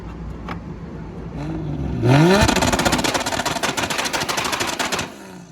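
A Mk3 Toyota Supra with a 1.5JZ engine revs up hard against a two-step launch limiter, rising to a loud, rapid machine-gun-like crackling and popping stutter that holds for about three seconds before dropping back to idle.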